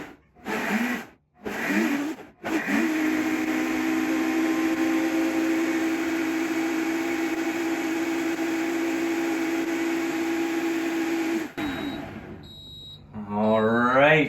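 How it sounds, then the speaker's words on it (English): A Flexzion vacuum blender runs its vacuum cycle, a steady loud motor whine and hum that holds for about nine seconds after a few short starts, then cuts off as a voice begins talking. "I'm gonna put it on the vacuum blend just so to get a little bit more vacuum"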